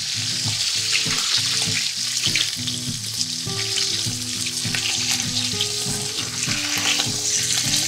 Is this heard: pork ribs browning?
yes